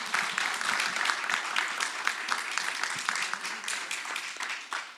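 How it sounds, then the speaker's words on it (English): Applause for panelists and leaders closes a symposium session on Africa–Japan collaboration, a full crowd clapping steadily for several seconds at moderate volume with no speech over it. "let me ask you to give one more big round of applause to the panelists and the leaders here"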